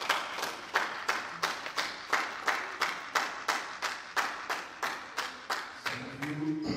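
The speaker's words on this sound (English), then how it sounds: "Let's clap for our children teacher." A church congregation at a Sunday thanksgiving service claps in a steady, evenly spaced rhythm for the children's teacher, sharp close claps repeating about twice a second before breaking off near the end as a low voice enters.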